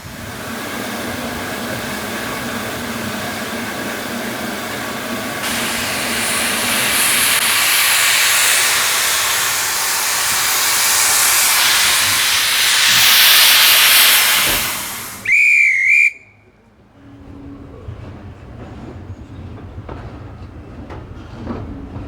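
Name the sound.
steam locomotive hissing and whistling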